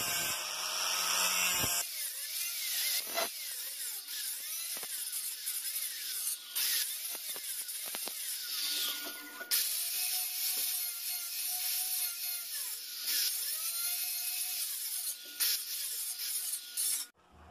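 Metal being cut for a sliding window frame in an ironwork shop, a steady abrasive grinding and rasping that runs almost continuously and loud with brief dips, close to the listener, with no talking.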